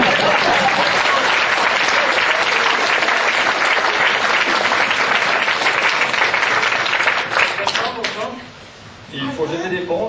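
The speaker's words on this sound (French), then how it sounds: "Alors applaudissez-le, ça lui fera plaisir." An audience at a mixed choir show gives loud, sustained applause for a producer, dense clapping that tails off near the end as voices begin speaking.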